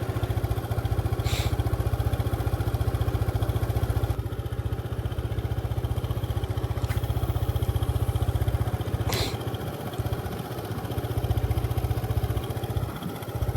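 A motorcycle engine drones steadily and loudly while riding, a continuous low buzzing throb with wind rush and a few brief clattering knocks, and no speech.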